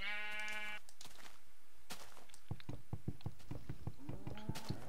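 Minecraft sheep give a clear bleat at the start, then a wavering bleat near the end, heard over blocky footsteps and thuds at moderate volume.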